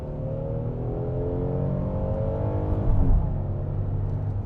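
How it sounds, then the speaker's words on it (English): A 2025 Kia Telluride SX Prestige X-Line accelerating in sport mode, its engine droning steadily and rising in pitch as it builds speed, heard from inside the cabin with no talking. "Let's go ahead and just kick it over into sport. And I'm gonna hit the accelerator, see what it sounds like."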